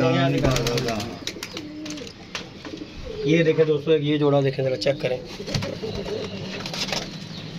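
Pigeons kept by a baba coo softly in short, repeated bursts close by, mostly under steady conversational talk in Hindi-Urdu.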